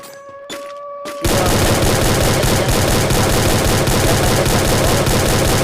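Gunfire in an online shooter match: a few isolated shots and tones, then a sustained loud burst of rapid fire filling the rest, with no talk.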